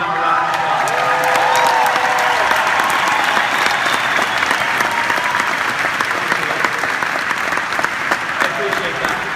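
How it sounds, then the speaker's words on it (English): A round of applause fills a business meeting hall in Orlando, Florida: dense, steady clapping from a large audience lasting throughout, loud and close, with some voices mixed in beneath it. "So if you give them a round of applause."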